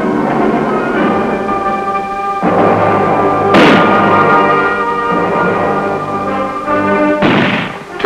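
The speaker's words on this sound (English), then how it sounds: "Mortar units learn to drive into position and set up their weapons rapidly to lay down a barrage of fire." Army mortar units fire a barrage, with two heavy booms standing out over a continuous droning background and a further burst near the end.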